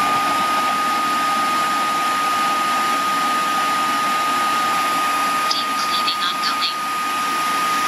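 A Eureka RapidWash NEW630 floor washer runs its self-cleaning cycle, giving a steady, loud whirring hum with no breaks and a few brief higher squeaks near the end.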